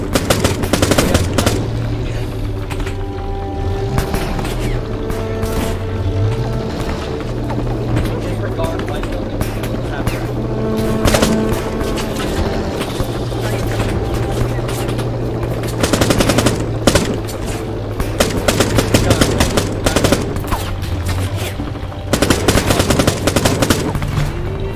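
Sustained machine-gun fire in a WWII Arma 3 battle, rattling on in bursts for the whole stretch over a low engine drone, with voices talking now and then.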